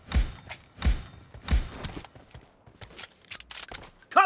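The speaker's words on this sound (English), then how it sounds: "Reloading!" Weapon reload in a room-based team deathmatch shooter set in a warehouse: three sharp mechanical clacks about half a second apart, followed by quieter rattles and clicks.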